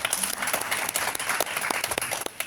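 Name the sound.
audience applause at a launch event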